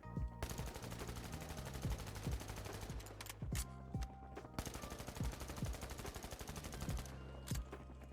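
Sustained automatic gunfire sprays at a wall in the video game The Finals, a dense rapid stream of shots in two long bursts separated by a brief pause, loud and continuous with no talk.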